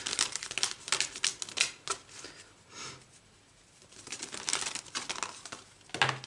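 A stiff deck of tarot cards shuffled with steady papery flicks and rustles, pausing briefly midway, then starting up again close by.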